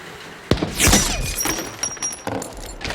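In a WWII movie sniper scene, a bullet punches through glass with a sharp crack followed by a bright shattering burst and tinkling debris, set against low background ambience.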